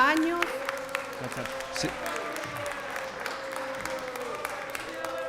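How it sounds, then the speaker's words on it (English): An audience at a city council meeting applauds in a dense, steady wash of clapping that fills the room, with a voice briefly starting to speak over it. "Applauding is not helpful in our listening to the speakers"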